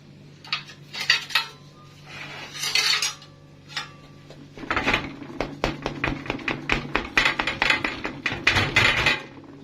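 A knife chops down through layered galash pastry with a cream filling, giving a run of sharp, crisp clicks and taps against the tray, sparse at first and then in a quick dense series, with no voices.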